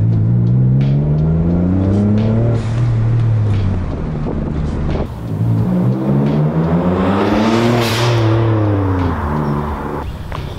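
A Mitsubishi Galant VR-4 fitted with a GFB blow-off valve set fully open, heard from inside the car: a loud engine climbs and falls through repeated revs under wind noise, with a brief hissing burst late on.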